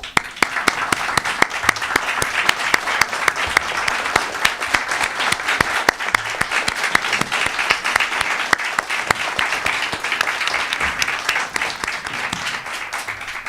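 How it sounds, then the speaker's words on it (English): Steady, dense applause from a large audience at a city's State of the City address, sustained at full volume throughout with no speech over it. "please rise so we can give you a well-deserved round of applause"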